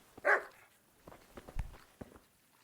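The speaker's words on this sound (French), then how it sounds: "Ils arrêtent d'aboyer là?" In the video game Kingdom Come: Deliverance, a single sharp dog bark rings out early, followed by scattered soft thuds and footstep-like taps at low volume.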